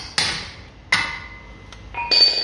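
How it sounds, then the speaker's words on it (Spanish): Sharp metallic hammer blows strike a drive shaft bolt on a Seat Leon while it is worked free, two loud ringing hits followed by lighter metal clinks, close up. "aquí le meto martillazo a la vez que estiro la aquí"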